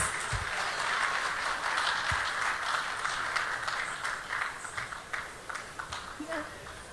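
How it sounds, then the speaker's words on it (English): An audience claps loudly and continuously for a children's Kolatam stick-dance performance at a conference, a dense wash of applause that tapers slightly at the end while a voice speaks over it. "All the innocent faces deserve a huge round of applause once again,"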